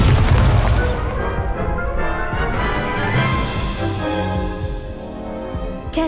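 Incendio fire spell from the wizarding video game Hogwarts Legacy, a loud booming blast at the start that rolls into a sustained roaring crackle of magical flame, with game music and effects layered throughout.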